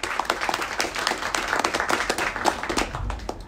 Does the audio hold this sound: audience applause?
yes